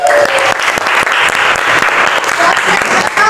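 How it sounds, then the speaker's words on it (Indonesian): Seventh-grade students in a math classroom burst into loud, dense applause that fills the room and continues without a break, with a few voices mixed into the clapping. "tepuk tangan untuk semua"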